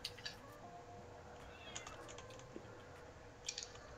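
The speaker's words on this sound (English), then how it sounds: "You guys hear that too, right? The cat?" A cat meows a few times, faint and short, during a Fortnite match, the calls sitting under a steady background of game noise and hiss.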